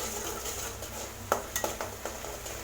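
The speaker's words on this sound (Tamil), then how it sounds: "வெங்காயம் நல்லா வதங்கணும் எண்ணெயில்" Ground small onions sautéing in oil for a Tamil mutton kulambu, with a low steady sizzle under a few sharp clinks and scrapes of a spoon stirring against the pan.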